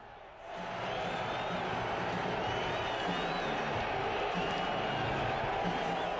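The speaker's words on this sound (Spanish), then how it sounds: "el presidente recibido entre vítores y abucheos" A large arena crowd at a mixed martial arts event in Madison Square Garden roars in a dense, sustained wash of cheers and jeers, swelling in quickly and staying loud with whistles threading through.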